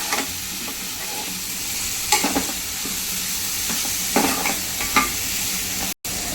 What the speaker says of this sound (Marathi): आता हे आपण चांगल्या परतून घेऊया